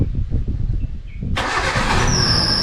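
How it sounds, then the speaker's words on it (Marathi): A new car that has sat unused for many days starts after a short, rhythmic cranking, then catches and settles into a steady idle, close by and fairly loud. "गाडी जरा चालू करून बघतो"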